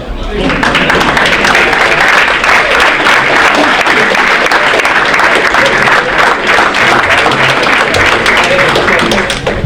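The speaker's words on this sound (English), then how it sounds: "Student athletes, if you could please stand and give your parents a much-deserved standing ovation" Student athletes give their parents a standing ovation at a winter varsity athletic awards ceremony, a loud, sustained wall of clapping from a large indoor crowd that holds steady throughout.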